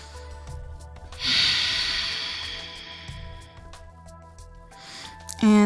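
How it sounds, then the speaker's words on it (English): Deep breathing during a seated yoga twist: one long, close, airy breath swells and slowly fades, followed by a quieter pause and the start of another sharp intake at the end. "Bringing that right hand to the base of your spine, just pressing gently into the knee here. A few big breaths."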